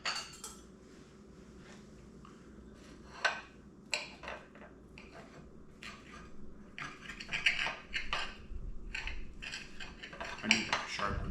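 A knife scrapes and clinks against a plate while making homemade syrup, with scattered sharp metallic taps and scrapes coming close and irregular over a quiet room, getting busier toward the end, no voices.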